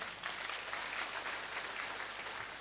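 A church congregation gives sustained, even applause during a Filipino mission service, heard from a distance at low level, with no voices over the clapping.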